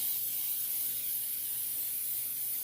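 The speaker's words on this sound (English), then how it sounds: "And then I'm also going to add some of the baking spray," A steady, continuous hiss of baking spray sprayed into a cake pan, close and even, lasting throughout with no pauses or speech.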